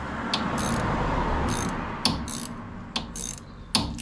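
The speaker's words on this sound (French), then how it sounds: "je desserre la barre stabilisatrice" A ratchet works on the front stabilizer bar of a Jeep Cherokee XJ 2.5 L TD, giving short bursts of sharp clicks over a low rumbling background, with a few louder knocks between them.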